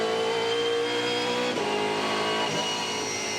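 V8 Supercar race cars at the 2015 Auckland 500 accelerate hard, a loud continuous engine roar with rising pitch and a gear change midway, no voices over it.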